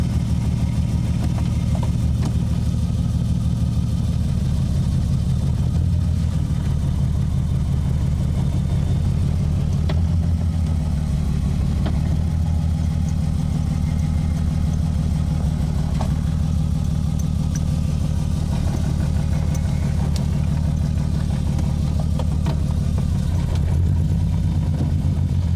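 A manual-swapped BMW E36 with a lightweight flywheel drives along, its engine droning steadily and loudly throughout, with rises and dips in pitch as it idles, pulls and revs, heard close and without talk.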